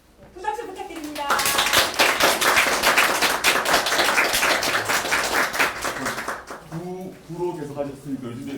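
An audience at a political party's thank-you gathering for fund supporters claps for several seconds, a dense burst of hand claps that swells after a short spoken introduction and fades as talking resumes.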